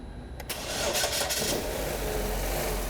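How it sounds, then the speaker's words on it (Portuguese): A car engine cranks and catches, then settles into a steady, loud idle close by, in a workshop setting. "Liga o carro aí, Elton, por favor."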